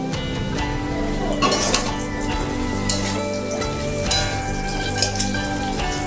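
Potatoes fry in oil in a pan for a raw-mango egg curry, a continuous sizzle with occasional clinks of a spatula on metal, heard beneath steady background music.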